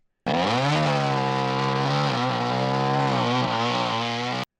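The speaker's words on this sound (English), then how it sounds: "they try to use the world's dullest chainsaw to cut an electrical pole" A dull chainsaw cutting into an electrical pole on a TV action show runs with a loud, continuous buzzing engine note that wavers slightly in pitch as it bites, then cuts off abruptly after about four seconds.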